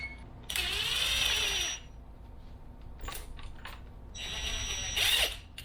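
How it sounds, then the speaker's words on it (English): A ratchet tightens a strut spring compressor on a Honda strut, giving two bursts of rapid metallic clicking separated by quieter shuffling and small knocks, close and fairly loud, with no talk. "You get your strut compressor, put it on here. Okay. On there. That. Tighten this down a little bit."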